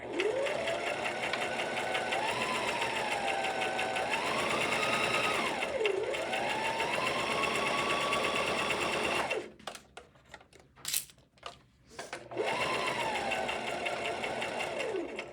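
A sewing machine runs steadily while stitching a scrunchie seam, its motor whirring with rising and falling pitch, broken by a few seconds of clicks and fabric handling before the stitching resumes, close up.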